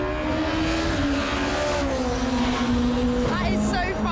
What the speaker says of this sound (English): the car just keeps on accelerating and accelerating and accelerating